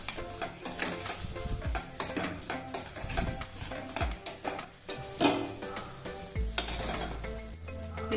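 Jaggery syrup bubbling and sizzling in a pan while a utensil stirs and scrapes through it, a dense continuous crackle with repeated clinks and scrapes, close and fairly loud.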